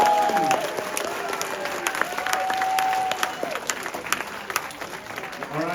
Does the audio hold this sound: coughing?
no